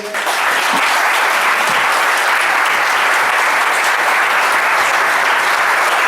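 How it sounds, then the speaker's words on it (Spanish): Sustained, loud applause from a seated audience at an open talk on the craft of illustrators and cartoonists, honoring a master illustrator; dense, steady clapping fills the whole stretch without a break. "por favor, un aplauso para el maestro Altuna"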